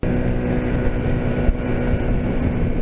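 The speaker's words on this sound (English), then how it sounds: "that little engine, like a 70cc, can sit there quite happily revving itself to death nearly" A 1980 Honda C70 Super Cub with a 70cc CDI engine revs hard at road speed near 75 km/h, a continuous buzzing drone with a steady whine, mixed with road and wind rush.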